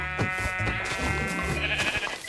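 Sheep bleating in the Minecraft video game, a wavering nasal bleat under steady background game music, heard close and clear with no talking.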